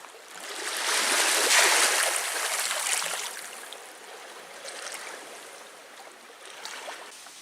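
Waves washing onto the Lake Superior shore, a soft rushing surge that swells and recedes in slow cycles, moderately near and alone without talk.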